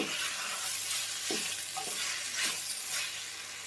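Butter broccoli sizzles in a pan as it is stirred with salt, a continuous soft frying hiss punctuated by a few light spoon scrapes, close and moderate, fading slightly at the end without any talking.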